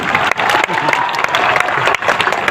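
Crowd at an outdoor political rally in a Bihar village breaks into loud, close applause, a dense burst of clapping that dips briefly a couple of times but carries on throughout.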